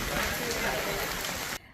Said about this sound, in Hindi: और बारिश हो रही है कल रात से यहाँ